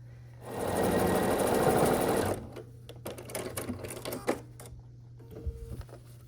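A sewing machine runs in a sustained, loud, fast-stitching burst while sewing quilt block seams for a card trick block, then stops, followed by softer handling clicks and rustles.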